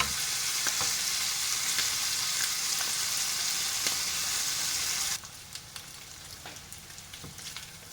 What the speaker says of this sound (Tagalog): Gagawin po muna natin i-prito yung ating pinalambot na lempo